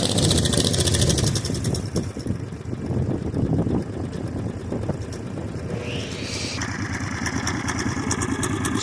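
An 18 hp V-twin minibike engine runs after a cold start, with a throbbing, uneven idle and revving close by throughout, loud and steady with no talk.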